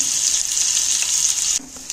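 Loud, steady sizzling of pointed gourd frying in hot oil, crackling continuously up close before dropping off abruptly near the end.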